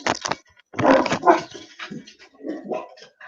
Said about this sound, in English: Those dogs are really loud.